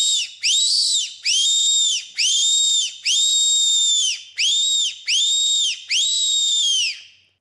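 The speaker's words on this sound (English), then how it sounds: "This next whistle is the Apex. So that's, more of like a tenor field sort of whistle" An Apex tenor field whistle, a blown predator call, sounds in seven sustained high-pitched blasts with short gaps, each bending up then down, loud, fairly close and with no other sound.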